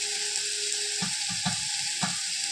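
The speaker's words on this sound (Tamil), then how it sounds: "இந்த எண்ணெயிலேயே வதங்கணும்." Steady sizzling of food frying in hot oil, with a few soft clanks of a utensil stirring the pan at intervals.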